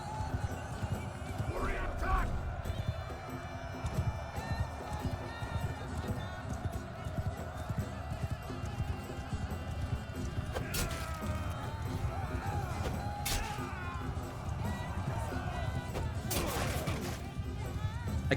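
Horse archers galloping in Mount & Blade 2: Bannerlord, a continuous rumble of many hooves and battle noise with occasional neighs, someone talking over it throughout.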